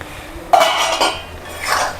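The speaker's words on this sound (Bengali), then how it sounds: "ঢাকা খুললাম" A pot lid lifts off a simmering radish curry (mulo ghonto) with a sudden metallic clank, then a softer rattle as it settles, followed by quiet kitchen sounds.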